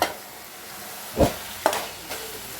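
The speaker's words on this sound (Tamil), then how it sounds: "மிக்ஸ் பண்ணிக்கோங்க நல்லா வதங்கட்டும்" Chettinad masala with turmeric sautés for prawn thokku, a low, even sizzle with a few distinct scrapes of a spoon stirring the thick paste in the pan.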